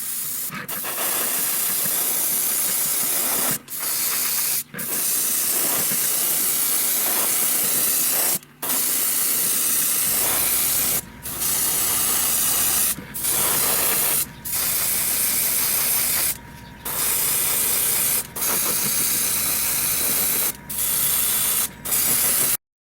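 An airbrush or spray gun hisses in long continuous bursts while painting a scale model, briefly pausing between passes, with a faint mechanical hum underneath.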